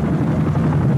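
Helicopter in a war film: a loud, close, continuous low rotor rumble and thrum, with no voices over it.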